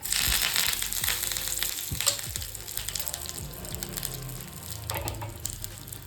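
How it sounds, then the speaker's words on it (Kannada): Curry leaves, mustard seeds and a chili crackle in hot coconut oil for a tempering, a dense, steady close-up sizzle scattered with sharp pops and splutters throughout. "ಇನ್ನು ಇದಕ್ಕೆ ನಾವು ಒಗ್ಗರಣೆ ಹಾಕೋದು ಒಗ್ಗರಣೆಗೆ ನಾವು ತೆಂಗಿನೆಣ್ಣೆನ ಯೂಸ್ ಮಾಡಿದ್ದೀವಿ"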